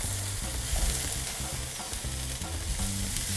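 Skirt steak for fajitas sizzles loudly on a hot grill while it is turned over, a dense continuous hiss. Low bumps and scrapes from the flip sound beneath it, and no voice is heard.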